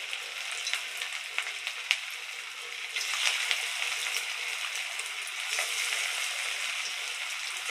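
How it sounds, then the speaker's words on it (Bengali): Aloo suji til pakoda frying on one side in hot oil turned down to low heat, giving a steady, fairly quiet crackling sizzle with small pops scattered throughout and no one talking. "এইভাবে এক পিঠ ভেজে নেব"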